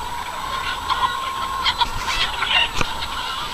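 Pasture-raised chickens on a farm make scattered clucks and honking fowl calls against a steady outdoor background, with several brief louder calls mid-way and no talk.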